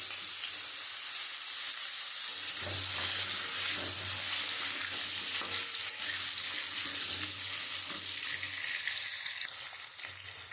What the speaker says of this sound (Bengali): আমি ওই তেলের মধ্যে একটু আদা বাটা দিয়ে দেবো আমি ওর মধ্যে মাছের জন্য যে আলু কেটে রেখেছি আমি আলুটা দিয়ে দেবো